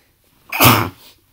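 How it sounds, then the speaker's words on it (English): A single sharp human sneeze, loud and close, bursting out then trailing into a softer exhale, with no talking over it. "I'm going to sneeze."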